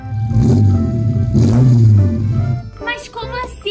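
Car engine running rough with a loud, uneven low drone after a fill-up of poor-quality fuel, surging twice over a few seconds before cutting back, with brief voices near the end.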